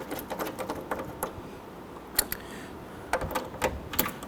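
Ratchet and socket on an extension working on an AC mount of a 2017-2020 Hyundai Elantra, giving bursts of quick clicking strokes with pauses between, close and fairly quiet.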